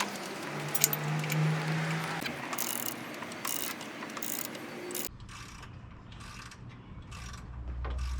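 A ratchet works loose the water pump pulley bolts on a Jeep Cherokee with the 4.0 engine, giving a steady run of close mechanical clicks with brief pauses and no talking.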